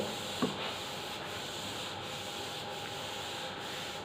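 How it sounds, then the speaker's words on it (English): A board eraser rubbing out writing during a physics lecture, a steady soft scrubbing rasp in even back-and-forth strokes, close, with one small knock at the start and no talking. "So let me rub the other part which is not required over here."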